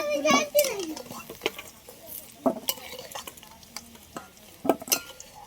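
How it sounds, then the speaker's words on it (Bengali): Potatoes fry gently in oil over low heat with a soft, steady sizzle, punctuated by sharp clinks and scrapes of a utensil stirring the pan, while a voice is heard faintly. "এই আলুটা হালকা জাল দিয়ে একটু লাল লাল করে ভেজে নিচ্ছি"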